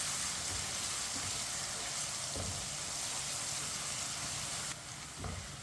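Chopped garlic sizzling and frying in a pan, a steady close hiss with faint crackles and a few soft clinks, no talking.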